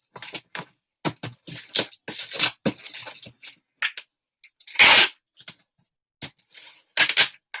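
A single sharp sneeze cuts through the rustle, snips and scrapes of packing tape and cardboard as an eBay parcel is wrapped; the handling noises come in short bursts around it.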